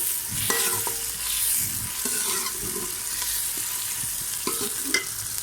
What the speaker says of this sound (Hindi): ये देखिए प्याज हमारा हल्का हल्का ब्राउन होना शुरू हो गया है।